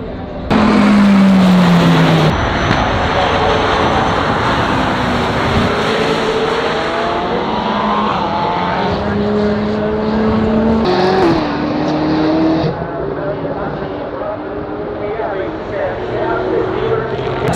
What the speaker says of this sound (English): Là c'est les hypercars qui tournent, on a Zenvo, on a Czinger